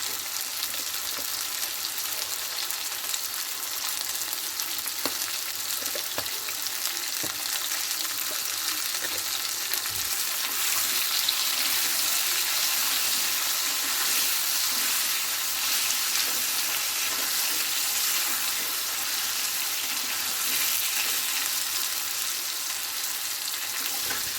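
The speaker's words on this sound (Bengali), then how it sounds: "লবণ আর হলুদ দিয়ে আমি কচু আর আলুটা ভেজে নেবো" Pieces of taro and potato fry in hot oil with salt and turmeric, giving a steady bright sizzle that carries on evenly throughout with a few faint stirring clicks and no talk.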